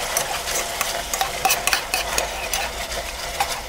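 Birthday cake mixture bubbles and spits in a pot on the stove while being stirred, with a steady sizzling hiss and frequent soft scraping and popping ticks close by, without talk.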